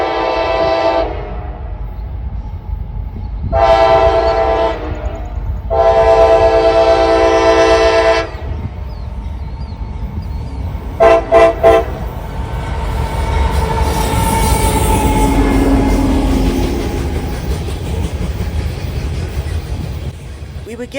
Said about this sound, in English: Southbound unit grain train G779 would greet us shortly after arrival